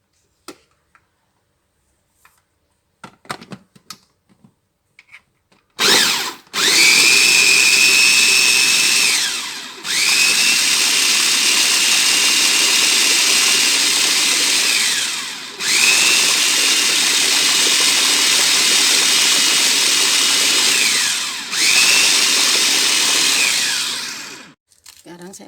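A food processor grinds frozen meat for siomay. After a few quiet clicks, the motor roars up loud and close, running in long stretches with brief dips and pauses between runs.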